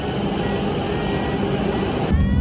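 A bullet train rolls into a station in Nagano, Japan, with a steady, piercing high-pitched wheel squeal over a low rumble, the squeal dropping away near the end.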